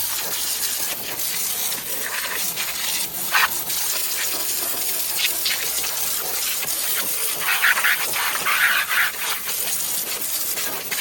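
A cheap £6 Aldi high pressure washer blasts leaves and debris with a constant, loud, close hiss of spraying water, its texture shifting slightly as the jet moves across surfaces.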